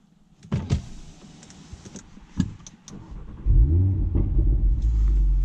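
A 2018 Audi RS3 Sportback starts up in the cold: a few clicks and clunks first, then the engine catches with a loud rumbling surge and settles into a deep, steady burble close by.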